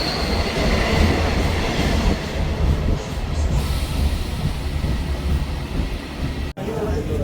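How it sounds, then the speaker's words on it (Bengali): Diamond Harbour local train pulling out of Sealdah station, a loud continuous rumble of rolling wheels and carriages with steady rail noise throughout, a brief dip near the end. "আমাদের ট্রেন ঠিক তার রাইট টাইমে শিয়ালদা স্টেশনে 21 নম্বর প্ল্যাটফর্ম থেকে ছেড়ে দিল।"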